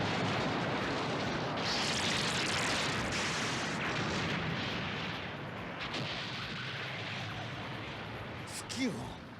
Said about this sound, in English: 敵要塞の集中砲火を受けて全域にわたり白熱化しております